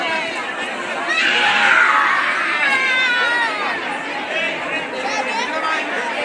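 Dense chatter of a crowd of visitors at the rock-cut Lenyadri Ganpati temple, a steady wash of overlapping voices with occasional children's shouts, close and fairly loud throughout.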